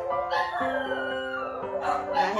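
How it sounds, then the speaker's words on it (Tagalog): Several dogs howl together in long, wavering, overlapping cries that rise and fall, loud and close, with no talking over them. "umiyak na naman yung mga aso ko."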